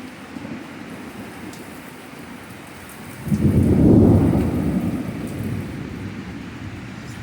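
A heavy thunderstorm with torrential rain and high winds: steady rain hiss, then a deep, loud thunder rumble that swells and slowly fades, with no talking.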